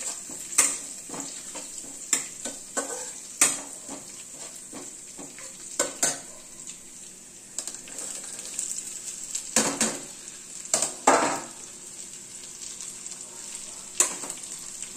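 Chopped cabbage, carrot, capsicum, tomato and onion frying with garlic in an oiled pan, a steady close sizzle broken by repeated sharp scrapes and clacks of stirring, with no talking.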